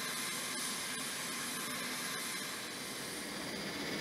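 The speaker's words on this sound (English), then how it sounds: "The four Allison T-56 turboprop engines powering the Hercules follow a sequence" Allison T-56 turboprop engines of a Hercules aircraft starting up, a steady faint whining, hissing engine drone that holds constant throughout.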